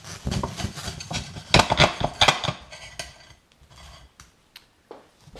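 Pan-fried ham and cheese sandwich scraped and slid from a frying pan onto a plate, giving clattering metal-on-crockery knocks and scrapes, busiest early and tapering to a few soft isolated taps.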